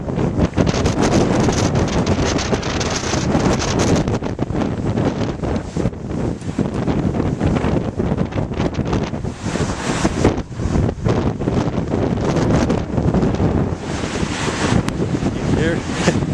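Strong wind batters the microphone on a lakeshore at Whiting, loud and gusty with rumbling buffets and possible surf underneath, while a voice speaks faintly through it.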